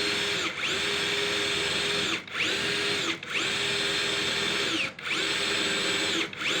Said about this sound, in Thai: เจาะไม้ที่เป็นไม้เนื้อแข็งนะครับ ค่อนข้างแข็งนะครับ